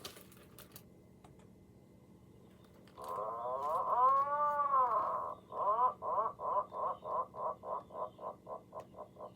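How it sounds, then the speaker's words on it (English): Atlantic puffin call: a low, rolling groan that swells and fades, followed by a regular series of short, pulsed grunts that gradually quicken and shorten, heard alone. "Let's learn about the Atlantic puffin."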